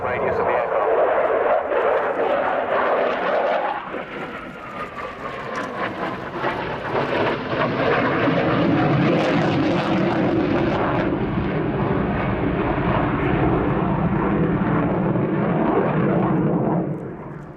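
A Royal Air Force Eurofighter Typhoon FGR4 performs a flying display at the RIAT 2017 airshow, its jet engines roaring loud and sustained with a rising and falling rush as it passes, while a commentator talks over it.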